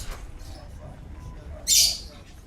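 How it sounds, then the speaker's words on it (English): A bird in the video game ARK gives one short, bright call near the end, rising above faint, quiet game ambience. "I don't know why we've got this bird flying around in here,"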